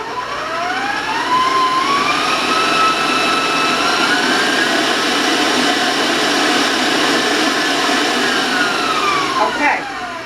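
Electric hand mixer beating cupcake batter with melted butter for marbled cupcakes, a loud steady whirring drone that holds nearly unbroken for the whole stretch, its pitch rising slightly early on and dipping near the end.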